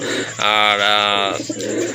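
A pigeon in a large collection at a market in Kashimpur, Gazipur, gives one loud, drawn-out, tonal coo up close, with voices around it.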